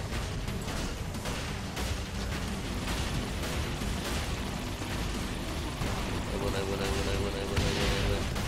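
Dense, continuous combat noise in Saints Row IV with repeated booming blasts and pops of cannons and rockets firing, loud and layered throughout.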